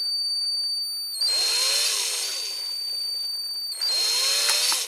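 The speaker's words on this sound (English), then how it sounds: "I thought I was going to be cocky and drill it without putting a punch or something on it" A power drill boring out a rivet on a Corgi Toys VW 1200 saloon European police car during restoration, two loud whining bursts with a rising motor pitch and a pause between them, close up with no talking.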